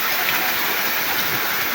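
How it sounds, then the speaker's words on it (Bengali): Heavy rain pours down during a storm in Kuliarchar, Kishoreganj, Bangladesh. It makes a loud, constant rushing hiss with no breaks, close by and filling the whole scene. "বহুত বৃষ্টি হচ্ছে।"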